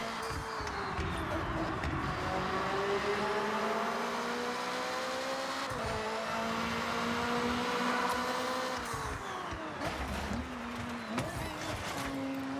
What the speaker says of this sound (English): the improved engine sounds, the exhaust sounds, the improved intake sounds